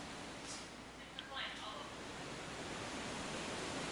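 Steady broadband rushing of a waterfall on a course in a video game competition, a continuous even wash of falling water at moderate level, with faint voices murmuring underneath.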